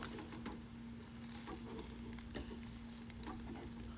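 Chicken grills with a drizzle of olive oil, giving a faint, continuous crackling sizzle with occasional small pops and a steady low hum underneath, no talking.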